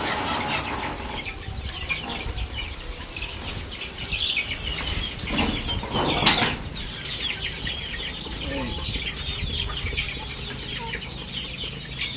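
Chickens cluck and squawk in a backyard chicken area in Jaffna, with occasional wing flapping and a voice talking intermittently in the background.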